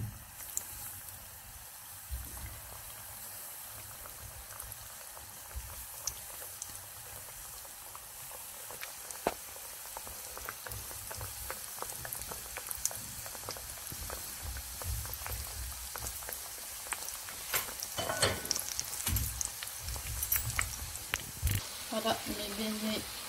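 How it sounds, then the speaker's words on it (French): Doughnut-cake beignets frying in hot oil, a steady soft crackle and sizzle with scattered louder pops and bubbling that grows busier toward the end, fairly quiet and close. "on va commencer à frire nos beignets in gâteau"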